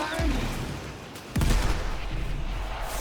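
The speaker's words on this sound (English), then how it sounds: "Let me get close to show you the shot firing once again." Gunfire from Dante in Warframe, a couple of sharp booming shots with a loud burst near the middle, over a dense rumbling game background with a voice talking.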